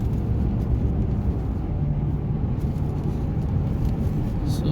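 Ford F-150 pickup driving with aftermarket spotlights fitted, a steady low rumble of engine and road noise that holds evenly from start to finish, heard from inside the cab with no talking.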